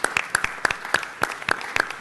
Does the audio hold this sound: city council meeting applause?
yes